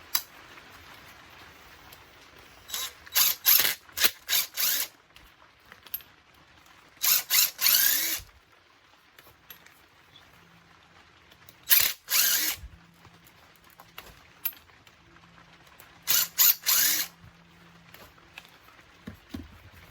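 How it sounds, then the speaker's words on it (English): A power drill spins screws out of electrical outlets being stripped for scrap brass, with short whirring bursts alternating with pauses and faint handling clatter. "Some of them have screws, and you're going to want to remove these screws before you do it."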